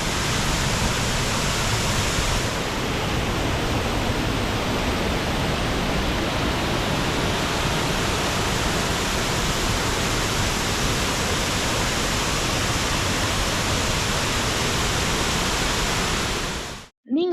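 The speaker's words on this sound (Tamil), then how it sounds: "ஃபால்ஸோட ஃபுல் வியூ பாருங்க. எவ்ளோ அமேசிங்கா இருக்கு." Waterfall set among mountains in Kotagiri, a steady loud roar of falling water, broadband and continuous throughout, with no voices, cutting off abruptly at the end.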